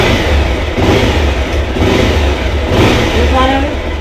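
Bajaj Pulsar 220F motorcycle engine running close and loud, holding a steady rumbling idle with slight rises in revs throughout.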